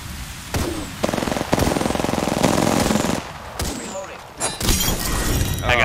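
Hemlock burst-fire gunshots in the Apex Legends video game, with repeated loud rapid bursts and impacts in a busy fight, mixed under a player talking.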